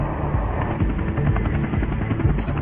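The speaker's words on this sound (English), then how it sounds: "30-year-old Army pilot David Williams flies his Apache attack helicopter toward Karbala" An Apache attack helicopter drones steadily with a rapid rotor thump, loud and close, with no voices.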